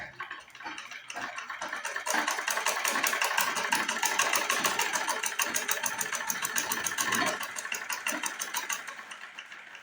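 A sewing machine stitches a practice piece of fabric with a rapid, steady mechanical whirr and fast ticking. It runs loud and close for most of the stretch, then eases off near the end, with no voices.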